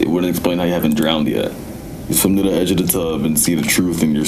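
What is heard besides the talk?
No everyday noise stands out behind the speech.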